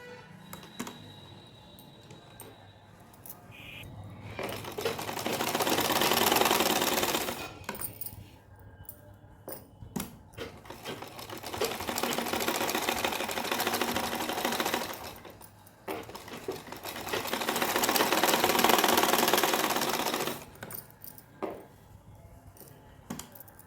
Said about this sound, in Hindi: तो अब चलिए शुरू करते हैं सिलाई को।